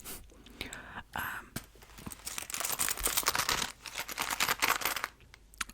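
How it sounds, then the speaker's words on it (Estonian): Metal coins rattle and clink inside a small wallet, close and crisp in an ASMR setting, coming in irregular bursts with soft shuffling between them. "kuulete, kui rikas ma olen, mündid kolisevad."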